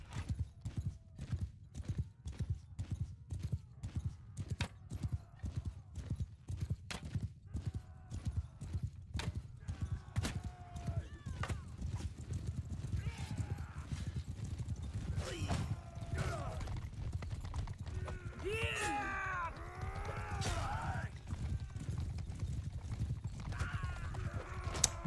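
Horse hooves galloping in Mount & Blade II: Bannerlord, a rapid run of clip-clop beats close by with neighs and whinnies rising through the second half, set against low battle rumble.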